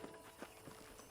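Horse hooves clip-clopping in the Red Dead Redemption video game, a quiet, steady run of soft beats under a low ambient backdrop.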